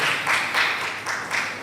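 Round of clapping from attendees at a Nigerian Bar Association legal session, brief pulsing applause in a hall, steady and moderately loud.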